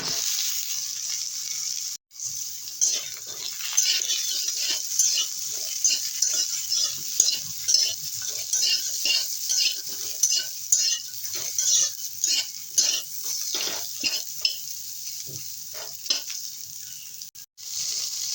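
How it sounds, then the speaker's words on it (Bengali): Potato and pointed gourd fry in a pan with a steady hiss of sizzling oil, while a utensil stirs and scrapes through them in frequent irregular strokes, close and clear. "আলু পটলটা একটু নেড়ে চেড়ে ভেজে নিয়েছি"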